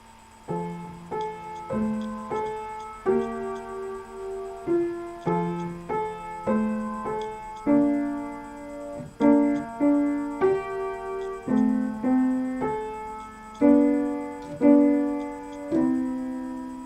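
A solo piano plays a bright, steady melody with clear repeated note attacks and chords, moderately loud and continuous with no voices.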